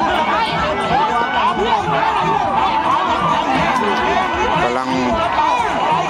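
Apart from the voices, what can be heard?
crowd cheering at a boat race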